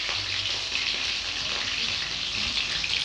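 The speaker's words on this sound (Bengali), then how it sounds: "তো এদিকে ফুলকপিগুলো ভাজা হোক" Cauliflower frying in a pan during home cooking of a Bengali cauliflower and meat dish, a steady close hiss and sizzle of hot oil that continues without a break.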